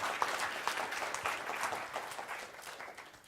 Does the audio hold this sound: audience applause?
yes